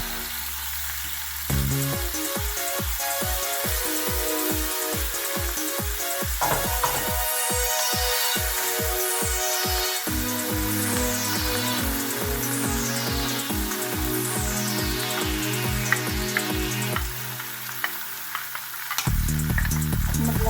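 Kangkong leaves and tofu stir-fried in garlic and oyster sauce: a steady, loud sizzle with repeated scraping stirs and clinks throughout, no voices heard.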